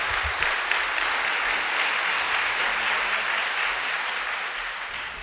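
Audience applause welcoming a guest speaker at a Korean church testimony event, a steady, dense wash of clapping from a sizeable crowd that holds evenly for about five seconds and eases off slightly at the end.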